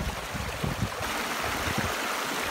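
Water runs down an eroded, deeply cut forest track in winter, a steady rushing and gurgling flow, continuous and moderately faint, with no voices.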